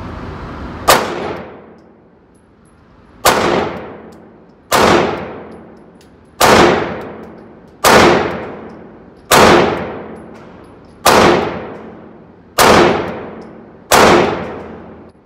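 A Walther PPQ subcompact 9mm pistol fires nine loud, evenly spaced shots at a steady pace, each a sharp crack with a ringing decay.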